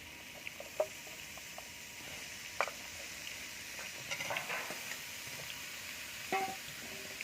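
Chili powder and spices being sautéed in a pan for a vegetarian jackfruit curry give off a steady, fairly soft sizzling hiss, broken by a few light scraping and stirring clicks.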